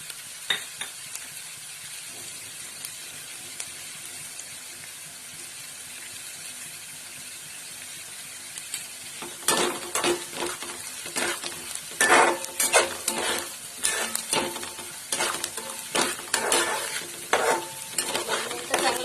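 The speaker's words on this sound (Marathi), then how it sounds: "फ्राय करून घ्यायचं" Onion poha with turmeric and salt frying in a pan: a soft sizzle at first, then brisk, close stirring with repeated scrapes against the pan over the continuing sizzle, with no talking.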